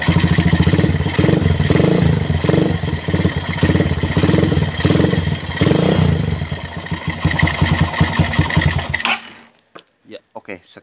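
A motorcycle engine kick-started with a universal spark plug cap, running with a rapid clattering putter and some revving, close and loud, then cutting off abruptly near the end, followed by a few faint knocks.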